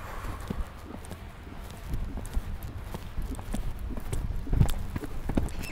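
A horse being ridden on trial beats out a steady rhythmic clip-clop of hooves, close and continuous, with a faint voice talking in the background.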